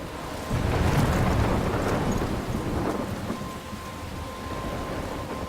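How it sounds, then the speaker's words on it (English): A thunderstorm in Life Is Strange: heavy rain hisses steadily while deep rolls of thunder rumble near the start and fade, with no voices. "I'm trapped in a storm?"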